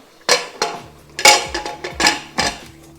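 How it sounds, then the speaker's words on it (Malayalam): A series of metallic clanks and clicks as a pressure cooker lid is fitted and twisted shut, about seven sharp knocks in uneven rhythm. "അപ്പോൾ നമ്മൾ കുക്കർ അടച്ചു കൊടുത്തിട്ടുണ്ട്"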